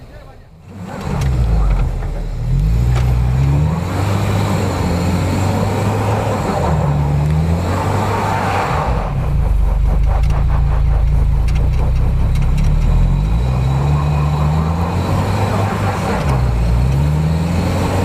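Off-road SUV engine, a UAZ Patriot on 33-inch AT tyres or a Suzuki Escudo with a locking differential, revving hard and steadily while climbing a snowy winter track, loud and close, with brief voices in between.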